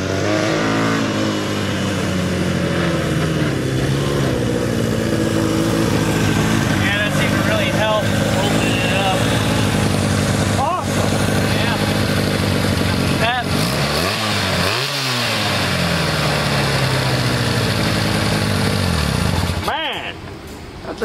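A 1966 Honda CL160 motorcycle with a rebuilt carburetor runs close by with a sputtering, rough idle broken by several sharp revs that climb and fall. People talk over the engine.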